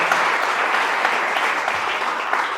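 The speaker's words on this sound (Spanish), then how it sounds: "Ver ese fuerte aplauso a Él en esta tarde." A church congregation breaks into strong, sustained applause during a service, loud, dense clapping from many people that stays even and continuous throughout.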